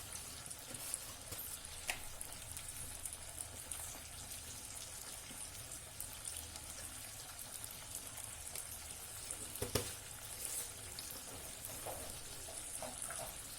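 Radish pieces frying with salt and turmeric in a clay pot give a faint, steady sizzle and crackle, with one sharper tap of a utensil partway through.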